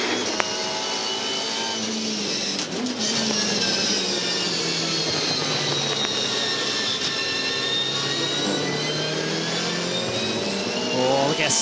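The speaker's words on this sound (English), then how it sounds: "look how subtly he is on the throttle, just feeding the power in, trying to minimise any wheel spin off the corner" A 2014 Supercars race car accelerating out of a corner at the Perth 400 with the throttle fed in gently, its engine a loud, sustained roar with rising and falling pitch and a little faint commentary underneath.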